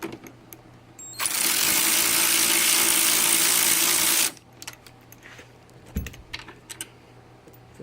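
A wrench works on bolts around the roll bar area of a Mazda Miata during a Hard Dog Deuce roll bar install, with a loud sustained whirring burst of about three seconds, followed by scattered clicks and metallic clatter.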